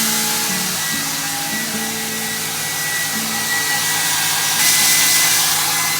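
A hair dryer runs off a portable power station inside a camper van at a highway rest area, giving a loud, steady blowing whine close by with no pauses and no talk.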